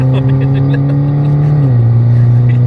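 A motorcycle engine drones loudly and steadily close by, its pitch dropping slightly as it moves past.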